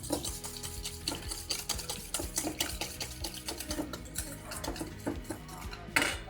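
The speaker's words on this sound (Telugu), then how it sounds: "ఇప్పుడు దీన్నంతా మనం మంచిగా మిక్స్ చేసుకోవాలి, లేదంటే ఉండలు అయిపోతుంది." A spoon clinks and scrapes steadily around a bowl as a spiced paneer curry mixture with dahi is mixed, giving a busy, continuous rhythm of close metallic taps and wet stirring.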